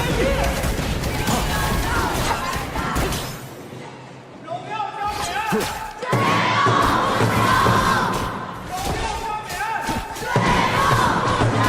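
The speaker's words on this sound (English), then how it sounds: "Lovely calls coming in from both sides of fans here." An esports crowd at an Honor of Kings knockout-stage match cheers and chants in loud, rolling waves. Thumps and clatter mix in, and commentators talk over the noise.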